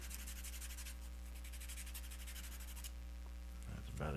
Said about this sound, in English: Just taking a piece of sandpaper and cleaning off this blending stump until it comes out gray or white or no color at all